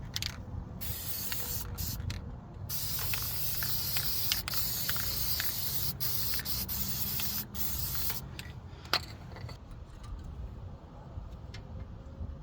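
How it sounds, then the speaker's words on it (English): Long, steady hiss of brake quiet aerosol sprayed onto Nissan Pathfinder brake pads, sustained for several seconds with brief pauses and a few short bursts near the end. "I use this brake quiet as a spray"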